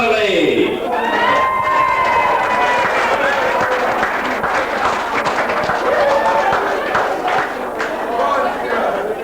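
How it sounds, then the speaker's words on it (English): A lounge audience in Ardara claps and cheers loudly for a contestant in a glamorous granny competition, sustained applause mixed with whoops and shouting voices throughout. "Keep the applause going, ladies and gentlemen."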